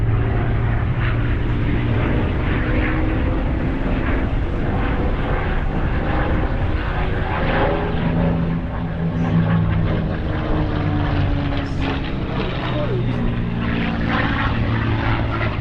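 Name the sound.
propeller warplane flying over at an air show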